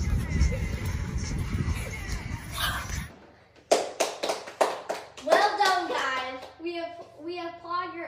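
A short burst of hand clapping under noisy chatter, then a pause and a few sharp claps mixed with children's voices.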